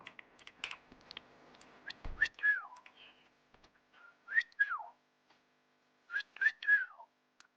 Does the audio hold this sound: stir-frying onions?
no